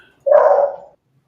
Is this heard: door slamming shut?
no